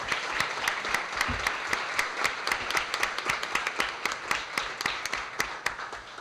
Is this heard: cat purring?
no